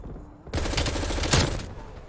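A FARA 83 rifle in Call of Duty Cold War fires one sustained rapid burst of loud, close gunfire lasting about a second and a half, then tails off into quiet.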